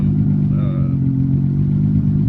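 A Toyota 1JZ engine swapped into a MK3 Supra idles close by with a faulty idle air control valve, a deep steady rumble whose pitch wavers slightly as the idle hunts unevenly.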